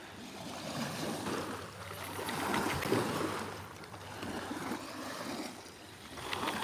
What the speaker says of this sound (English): water sounds amazing